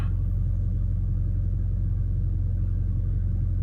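A 2.2 liter turbocharged four-cylinder in a Chrysler Turbo LeBaron with multi-point fuel injection runs at a steady idle. It gives a continuous deep, even rumble, close and alone, with no talking over it.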